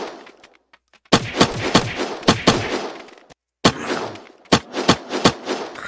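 A SAR 16 semi-automatic rifle fires in Unturned, a burst of sharp, punchy shots spaced close together, then a brief pause before another quick run of rounds, loud and close.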